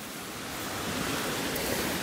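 Ranidhara waterfall near Kanha National Park, a broad steady roar of falling water that swells slightly louder partway through, heard alone with no talk.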